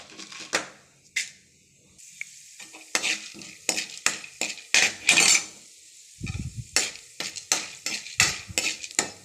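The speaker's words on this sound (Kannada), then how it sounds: "ನೋಡಿ ಎಣ್ಣೆ ಕಾದಿದೆ, ಅದಕ್ಕೆ ಸ್ವಲ್ಪ ಸಾಸಿವೆ, ಕಡಲೆಬೇಳೆ ಹಾಕ್ಬಿಟ್ಟು ಒಂದೆರಡು ನಿಮಿಷ ಫ್ರೈ ಮಾಡೋಣ." Mustard seeds and chana dal fry in hot oil for a tempering. Sharp, close spatula scrapes and crackling bursts repeat in an irregular rhythm over a quieter sizzle.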